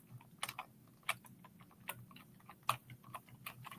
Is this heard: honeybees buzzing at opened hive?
no